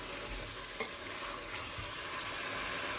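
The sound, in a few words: chicken and radish pods with spices frying and stirring in pan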